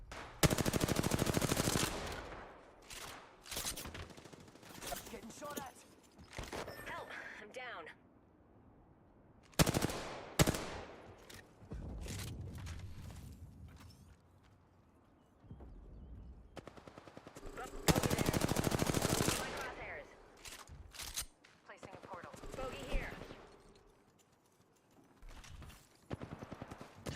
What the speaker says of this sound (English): Taking fire. Firing. Getting shot at.